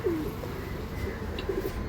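Two soft, low pigeon coos, one near the start and one near the end, over a quiet background hum.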